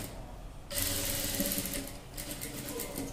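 Sewing machine stitching a small child's skirt, its fast steady whirring run kicking in after a quiet start and continuing close and loud.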